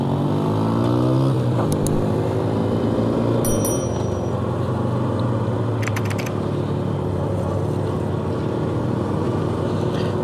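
Honda CRF 150F dirt bike, a 2004 model, ridden on muddy trails near retention ponds, its engine droning steadily and close throughout with slight shifts in pitch.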